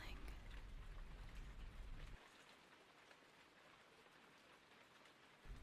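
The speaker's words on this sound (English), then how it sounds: "listening to the sound of the rain" Rain falls steadily in a soft, even patter on a rainy night, faint and continuous, with a low rumble briefly underneath at the start.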